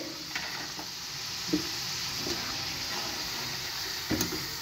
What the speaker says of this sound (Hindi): अब हम यहाँ पे हम इनको एक बार निकाल के दोबारा फ्राई करेंगे